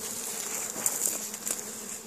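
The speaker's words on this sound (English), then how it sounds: "We've got lots of bees shaking around" Many bees buzz steadily around an open hive, a dense close-up hum with a few individual insects whining past.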